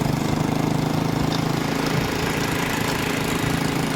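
A motorcycle engine that has overheated runs steadily in the open on a hot day, giving a continuous loud idling drone with a slightly knocking, uneven texture and no talk.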